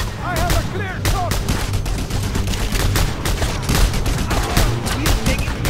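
Dense, loud gunfire in the video game Just Cause 2, a continuous rattle of rapid shots and bursts with explosive thuds, and game voices speaking under the barrage.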